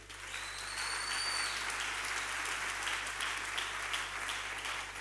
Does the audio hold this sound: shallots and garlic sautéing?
no